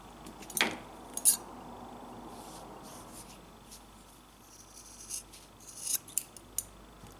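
Scissors snipping through a crocheted yarn tassel, with a few close, crisp cuts near the start and lighter clicks and snips later in an otherwise quiet room.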